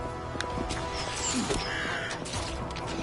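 Several crows caw in the video game Vikings: Wolves of Midgard, harsh scattered calls repeating at uneven intervals over a busy, clattering game soundscape, with no talking.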